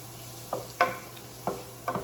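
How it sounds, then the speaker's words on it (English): Vegetables such as sweet potato, carrot and zucchini sautéing with Indian spices in a pan, a soft low sizzle broken by four short stirring scrapes, near and fairly quiet. "I'm getting this sauteed with those yummy Indian spices"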